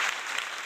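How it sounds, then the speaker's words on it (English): Audience applause at a live small business awards event, a dense steady wash of many hands clapping, loud and close, with no clear voices over it. "Wilton, you're not going to give Gary some clapping?"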